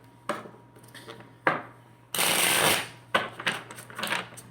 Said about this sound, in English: Let me shuffle this deck too.